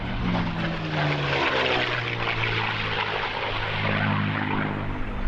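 A Packard-built Rolls-Royce Merlin engine drives the propeller of a North American P-51 Mustang, a loud, steady, close roar with a throbbing propeller drone throughout, no voices.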